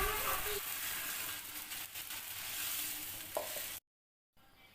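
Tofu sizzles and is stirred in a pan, a bright crackling fry with scraping strokes of a spatula, close and moderately quiet, broken by a short silent gap near the end.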